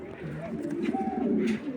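A pair of Maxi racer pigeons cooing up close, soft throaty warbling coos that rise and fall in quick succession, with no speech.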